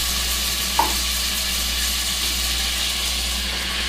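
Sliced onions sizzling in melted butter in a large pot: a steady, even frying hiss close by with one brief clink early on and a faint low hum beneath.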